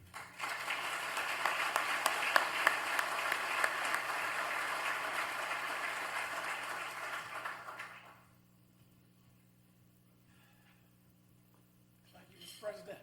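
Audience applause at a business hall of fame induction ceremony welcomes a speaker to the podium, with a steady wash of clapping for about eight seconds, then near silence before a voice starts.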